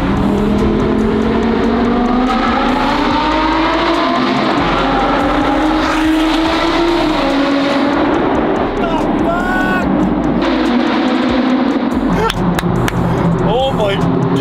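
A 2024 Audi RS6 Performance engine roars loudly and continuously with rising and falling revs as the car accelerates, heard close from on board, with voices talking over it.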